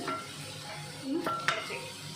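Vegetables for a biryani being stirred and sautéed in a pan, with soft sizzling, scraping and a couple of sharp clinks of a utensil against the pan, quiet and close.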